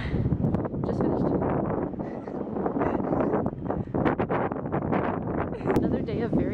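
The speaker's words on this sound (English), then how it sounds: "Another day of very windy and cold." Heavy, blustery wind roars against the microphone in constant buffeting gusts, with a voice talking underneath.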